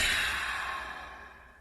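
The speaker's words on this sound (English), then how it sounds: "when we make that ha sound coming out our mouth, that actually creates a gentle narrowing in the back of the throat" A forceful open-mouthed 'ha' exhale of ujjayi breathing, a single breathy rush of air that starts strong and slowly fades over under two seconds, heard alone and close.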